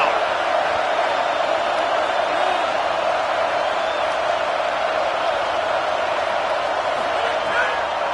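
American football stadium crowd on a third and goal, a loud, steady roar of many voices holding without a break.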